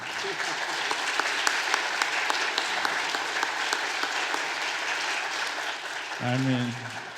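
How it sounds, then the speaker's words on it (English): Sustained audience applause in a museum auditorium after a talk and performance, a dense even wash of clapping that holds steady before a voice cuts in near the end. "Let's give a round of applause to the museum"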